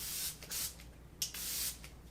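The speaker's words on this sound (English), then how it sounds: "hopefully you could notice a difference in the way that they spray, even just from like the noise that they make" Charlotte Tilbury Airbrush Flawless setting spray is pumped out in several close, breathy misting bursts, three of them longer and one short, in a quiet room with no talk.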